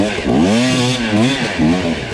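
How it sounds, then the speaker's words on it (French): An enduro motorcycle engine runs in gear, held back with a foot as it strains to move off. Its wavering tone rises and falls unevenly in close, loud pulses over about two seconds. "ma moto, je sens qu'elle a envie de se faire la malle, là."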